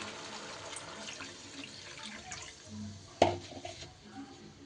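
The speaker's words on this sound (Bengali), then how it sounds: "এইবার এই পর্যায়ে দিয়ে দেব আমি জল।" Water poured into a pan of spiced banana stem curry, a faint splash and trickle with one brief louder splash partway through, no voices.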